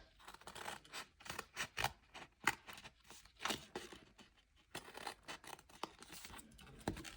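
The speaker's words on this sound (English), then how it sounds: "we're going to cut down on each of these to create little triangles" Small snips cut into card on a self-closing lidded box to form little triangles, with a quick series of crisp, close snipping clicks and soft paper scrapes between cuts, no talking.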